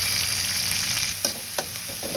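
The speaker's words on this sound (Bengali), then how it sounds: "এগুলো আমি হালকা লাল করে ভেজে নেব" Chopped onions frying in a pan, a steady close sizzle throughout with a couple of brief stirring scrapes, no talk.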